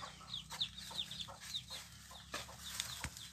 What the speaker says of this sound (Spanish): Una gallina con pollito.